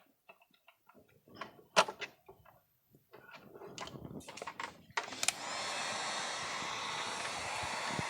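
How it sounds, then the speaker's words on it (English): Several soft handling clicks and taps give way to a heat gun switching on and blowing hot air onto heat-shrink tubing in a workshop. A steady, close, rushing whoosh holds to the end. "let's go ahead and heat up our heat gun here"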